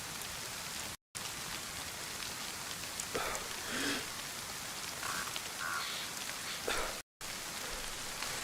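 Steady rain falls in the DayZ video game, a continuous soft hiss with scattered drop patter and a few faint tones over it. The sound cuts out briefly twice.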